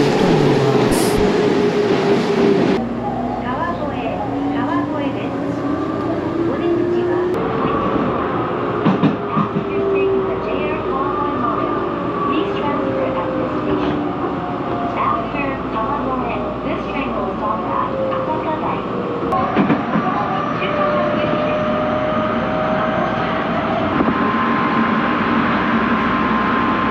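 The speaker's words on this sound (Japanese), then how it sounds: "ホームには、元町中華街の電車が入線してきました" A Japanese commuter train bound for Motomachi-Chukagai pulls into a station platform in Saitama, its motor whine and rising and falling tones sliding over rumbling wheels and clatter, loud and continuous, with faint talk in the background.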